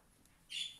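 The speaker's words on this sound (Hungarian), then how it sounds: "hogy nagyon hangosak a madaraim? Mert én hallom őket" Pet birds squawking indoors: a single short, shrill squawk bursts out near the end after a quiet stretch, fairly close and with no talking.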